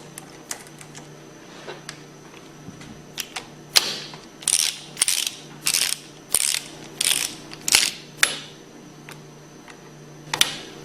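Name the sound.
ratchet tightening hex bolts on a Hypro centrifugal pump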